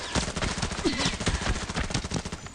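Rapid bursts of automatic gunfire from an enemy shooter in the Arena Breakout game, a dense, punchy rattle of shots repeating steadily throughout.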